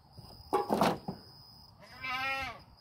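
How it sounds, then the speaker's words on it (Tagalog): Goats bleat twice nearby, a harsh noisy call followed by a longer wavering bleat, with quiet rustling between. "Yan ang aking mga kambing."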